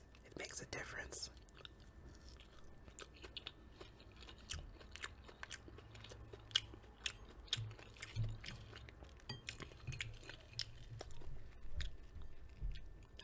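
Close, quiet crunching and chewing of a piece of fried fish seasoned with garlic powder, with soft irregular bites and mouth sounds over a faint hiss, recorded intimately for eating ASMR.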